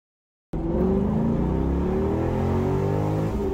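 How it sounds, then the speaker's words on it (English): A C6 Corvette LS2 V8, fitted with an LS7 air intake and MAF upgrade, makes a wide-open-throttle pull. After a half-second of silence the engine roars loud and close, its pitch climbing steadily for about three seconds. "Here's our first wide open throttle pull."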